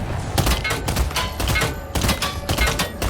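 Rapid automatic gunfire from the Fortnite video game rattles in dense, steady bursts with heavy thumps, loud and continuous throughout.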